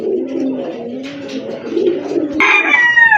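Sirazi pigeons coo close by in a steady, loud, low murmur, joined near the end by a sharper, higher call.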